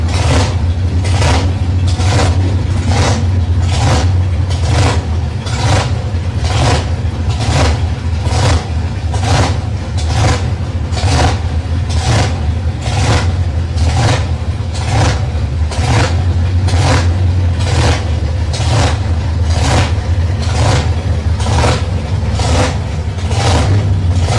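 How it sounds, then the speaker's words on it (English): Drag racing at a club meet: a black XC Falcon against a VN Commodore with a 6-litre engine launch off the line, a loud, steady engine roar with rapid pulsing, close and sustained, with no talk. "Fairly good traction off the line, but starting to blow the tyres off in lane 2 is Luke Pace"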